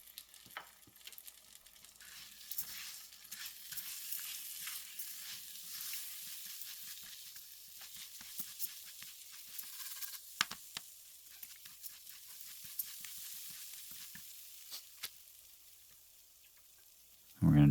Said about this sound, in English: we're just going to stir this all up together. Get that butter nice and melted up